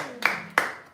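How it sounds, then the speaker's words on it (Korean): Two sharp, close hand claps about a third of a second apart ring out in a room during a Sunday afternoon prayer-school talk, each with a short echo tail. "우리 박수 한번 시작."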